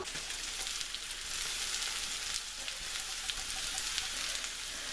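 Salted vegetables for a vegetarian pot pie steam and sizzle under a lid in a covered pot, a steady soft hiss with faint crackling pops and no voices.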